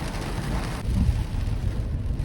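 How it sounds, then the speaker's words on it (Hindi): Steady rain pours down during a drive from Shamli toward Delhi via Panipat, a dense, even wash of noise with a low rumble that swells slightly partway through and carries on without any voices. "आप देख सकते हैं बारिश, मस्त बारिश हो रही है"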